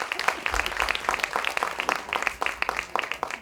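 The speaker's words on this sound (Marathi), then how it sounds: "त्यांच्यासाठी एकदा आपण टाळ्या वाजवूया" An audience breaks into applause for two musicians at a Gurupournima performance: dense, continuous clapping from many hands that stays steady and fairly loud throughout, with no voices over it.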